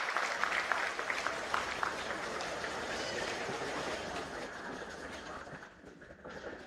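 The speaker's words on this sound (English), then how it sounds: "Ladies and gentlemen, please a big round of applause." Sustained, dense clapping from a large audience at an IIM Mumbai MBA convocation ceremony fills the room steadily, then thins and fades slightly near the end.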